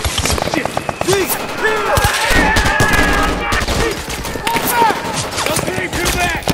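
Dense, loud gunfire from a military action short film: rapid overlapping rifle shots and bursts crackle throughout, with shouted voices mixed into the firefight.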